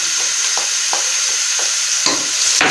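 Garlic and ginger paste frying in a pan with a steady sizzle, stirred by a utensil that scrapes in short, repeated strokes, close and fairly loud with no talking.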